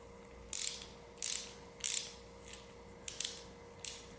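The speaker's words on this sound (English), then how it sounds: "grab your torque wrench with 4 Newton meters of force. You want to tighten it down." A torque wrench ratcheting as it tightens a Crankbrothers Eggbeater 11 bicycle pedal to 4 Nm, quiet and close, with about seven short clicking bursts spaced unevenly.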